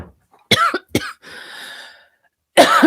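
A man coughs in a few sharp, close bursts, followed by a raspy breath and then a short vocal sound.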